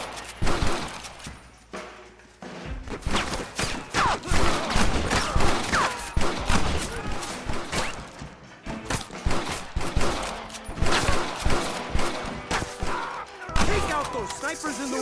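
Heavy shootout gunfire in the Western video game Red Dead Redemption, dense volleys of loud rifle and pistol shots with thuds and cracks filling the whole stretch, nearly continuous and close.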